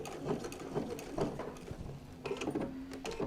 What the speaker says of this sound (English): I'm going to just back tack a little bit and fix my stitch.